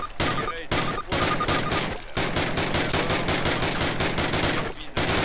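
Rhythmic automatic-weapon fire in Call of Duty (2004) on PC, a fast regular stream of loud shots with a few short pauses between bursts.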